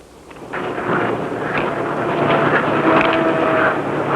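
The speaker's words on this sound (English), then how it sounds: "A helicopter drone, where radio signals have replaced the need for a pilot, has been developed by the command company." A tethered radio-controlled helicopter drone flies nearby at a 1953 demonstration, its engine a loud, sustained roar with a slowly swelling rumble and faint tonal whine, no voices.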